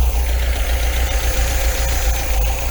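An MGB engine idles with its carburettors out of balance, a steady, loud, close mechanical drone with a low throbbing pulse and slight uneven knocking throughout.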